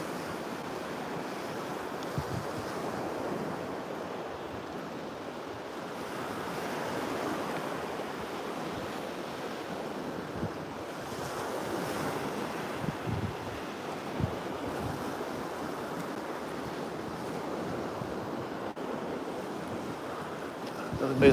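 Ocean waves wash onto a Sanibel beach at sunset in a continuous rolling surf, with some wind buffeting the microphone.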